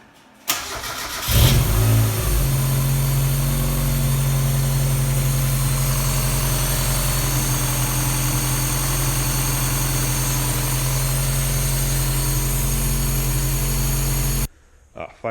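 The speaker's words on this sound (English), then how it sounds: "Fired up on the first turn of the key and ran smooth as butter" A supercharged Mazda Miata engine cranks briefly, catches on the first try and settles into a steady, smooth idle that runs loud and close for over ten seconds before cutting off.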